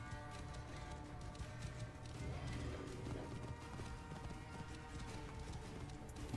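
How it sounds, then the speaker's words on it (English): In Assassin's Creed Origins, a horse's hooves clip-clop in a quick galloping rhythm while it neighs, set against a faint game soundscape and quiet throughout. "Must be Mered's horse."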